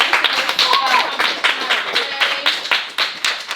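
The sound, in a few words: cheer team clapping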